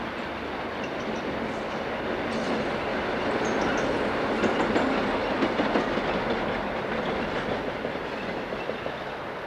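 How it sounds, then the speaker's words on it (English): Class 228 diesel locomotive 228748 pulls into Neudeutendorf station with a train from the Erfurt direction, a continuous heavy rumble with clattering wheels and faint squeals throughout, steady and fairly close. "228748 arrives at Neudeutendorf from the Erfurt direction."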